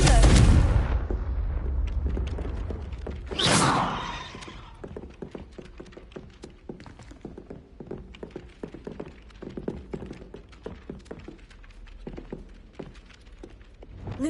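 A loud burst of explosions opens the scene, with a second blast a few seconds later, as Confringo fire spells go off in the video game Hogwarts Legacy. Afterward come scattered thuds and footsteps.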